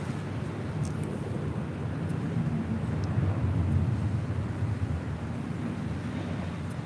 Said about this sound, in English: Next arrival here on the north side, Delta Airlines flight 2272. It's an A319 coming in from SFO.